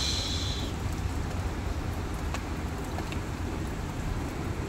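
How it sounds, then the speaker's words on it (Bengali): Light drizzle falls on a midday afternoon outdoors near mango trees, a soft, even hiss of rain that holds steady throughout, with a faint bird chirp at the start. "তাই ঝিরঝির ঝিরঝির করে বৃষ্টি হচ্ছে,"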